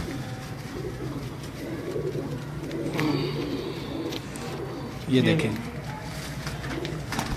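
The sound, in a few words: Indian pigeons cooing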